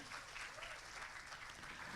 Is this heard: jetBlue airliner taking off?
no